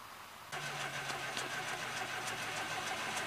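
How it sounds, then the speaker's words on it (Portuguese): A carbureted VW Voyage car engine is cranked and churns steadily for several seconds without catching, a close, loud mechanical whir that follows a brief quieter moment. "O voyageiro não quer pegar"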